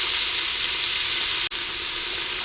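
Onions and shredded carrots frying in a pan, a steady close sizzle running unbroken with one brief dropout midway, no voices.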